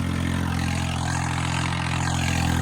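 A farm tractor fitted with a new 10x10 harrow idles out in a wheat field. Its engine keeps up a steady, low, rumbling drone at close range with no voices.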